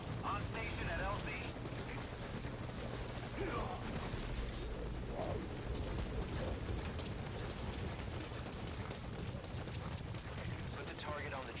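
Steady rotor drone and rumble of a helicopter in Metal Gear Solid V: Ground Zeroes, continuous and close, with radio voices and game sounds over it.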